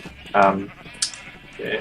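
Sheep on a video game server's farm give one loud, clear bleat, followed by a brief higher blip and a softer second bleat toward the end.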